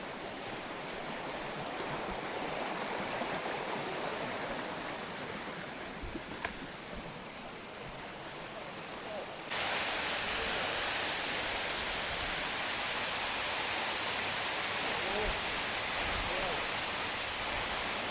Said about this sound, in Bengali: আর ঝর্ণার আওয়াজ কিন্তু আমরা এখান থেকেই পাচ্ছি।